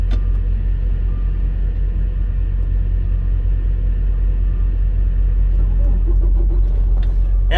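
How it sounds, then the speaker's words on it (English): A truck engine runs with a steady, loud, close rumble that fills the whole clip, holding an even idle throughout with faint knocks near the end. "I gotta start my truck, hold on."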